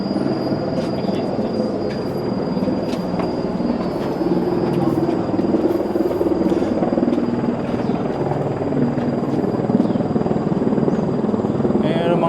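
Helicopters circle overhead above a man-made forest boardwalk, a steady, continuous rotor drone filling the air with insect-like background chatter throughout.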